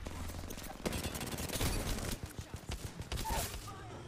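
Rapid bursts of rifle gunfire in an Apex Legends-style battle royale shooter, including a shard rifle, crackling in quick repeated volleys alongside game sound effects.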